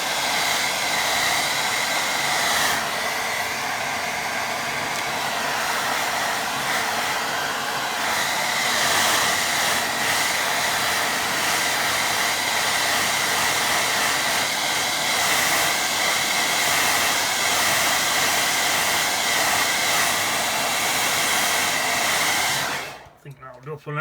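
A hair dryer blows steadily on a watercolour painting, a loud, close, continuous whooshing hiss lasting over twenty seconds before it cuts off abruptly at the end.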